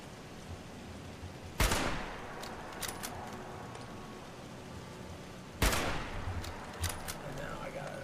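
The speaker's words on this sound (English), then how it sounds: "Let's use the Marksman Hunt Rifle." Two sharp rifle shots from a Marksman Hunt Rifle in Fallout 76, spaced about four seconds apart, each a loud crack with a ringing tail over steady game ambience.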